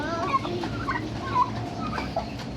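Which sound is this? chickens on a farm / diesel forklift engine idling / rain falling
chickens on a farm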